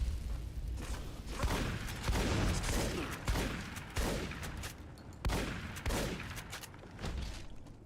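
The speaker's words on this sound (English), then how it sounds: "Love being able to shoot guns out of their hands." Gunfire in Fallout New Vegas, repeated loud shots and bursts at an irregular pace, each blast ringing out with a heavy boom and short decay over a constant combat background.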